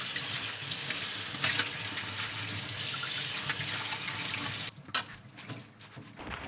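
Cabbage leaves are washed under a running kitchen tap, a close, steady rush and splash of water that stops abruptly and is followed by a few brief drips and clatters, with no talk.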